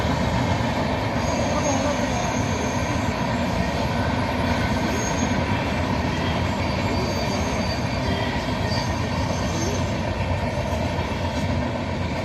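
A train rolls past green fields near a temple on a Kerala line around Kollengode, Palakkad, its wagons and wheels rumbling steadily and loudly throughout, with faint wheel squeal over the continuous roar.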